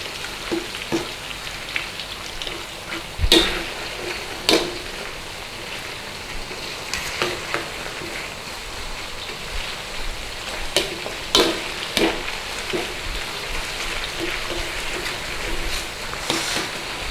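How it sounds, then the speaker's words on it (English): Pieces of beef fry in hot oil, giving a soft continuous sizzle punctuated by irregular sharp pops and crackles, close and fairly quiet, with no talking. "I'm going to cook this in oil, hopefully give it a nice little bit of a browning crispiness on the outside"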